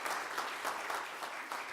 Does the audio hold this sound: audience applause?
yes